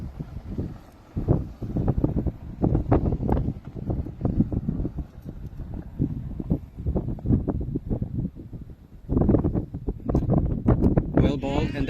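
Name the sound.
wind blowing at outdoor cricket match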